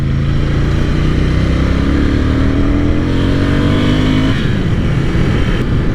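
A Ducati Scrambler Cafe Racer motorcycle engine drones loudly up close while riding through twisty roads, its pitch climbing steadily under acceleration before dropping sharply with a gear change or throttle-off, over constant wind rush.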